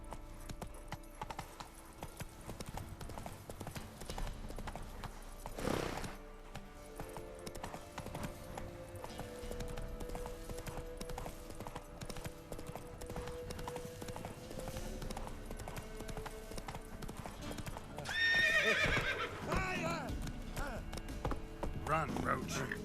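Hooves clip-clop steadily as the horse Roach gallops across the ground in The Witcher 3, a continuous rhythmic beat running under game music and ambience, with a brief whinny near the end.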